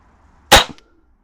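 A single sharp rifle shot at a budget rifle competition, loud and close, cracking out alone against near silence and fading quickly.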